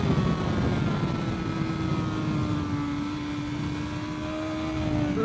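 Onboard sound of a MotoGP racing motorcycle at speed, its high engine note steady and loud with a slight dip in pitch as the rider shifts down toward first gear, wind roar underneath.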